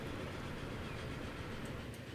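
A train running on rails in the Transport Fever game, heard as a steady, even rumble that holds at a constant level throughout with no voices.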